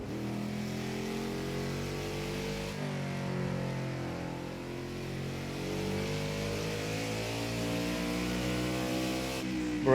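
Simulated car engine in Project Cars 2 revving up and down through heel-toe downshifts, a steady mid-pitched drone with rising and falling rev sweeps across nearly ten seconds, with no talking.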